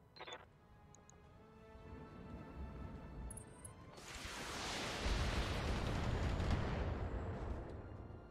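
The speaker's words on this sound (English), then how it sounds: "Full LRM salvo, which leads to a explosion" A full salvo of long-range missiles from a BattleTech mech strikes home in a battle game, starting as a low rumble and swelling into a loud, sustained roar of overlapping explosions that carries to the end.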